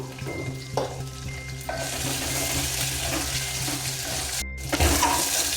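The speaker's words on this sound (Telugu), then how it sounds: "మనకు పోపు అంతా కూడా కొంచెం పచ్చివాసన పోయి కొద్దిసేపు వేగిందండి" Spices and curry leaves crackle and sizzle in hot oil, starting quieter and building to a steady fry, with a brief break near the end.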